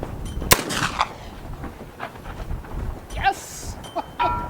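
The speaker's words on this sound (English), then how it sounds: "and the gun should go bang." An 1874 Sharps rifle fires a single loud, sharp shot that rings out and decays, followed by quieter clinks and faint voices.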